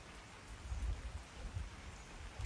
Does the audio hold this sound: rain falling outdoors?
yes